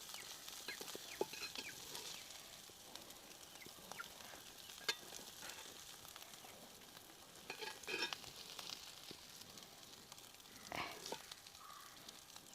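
Beef pieces for shawarma fry in a pan, a faint, steady sizzle with occasional scrapes and stirs, distant-sounding and quiet, with no voices.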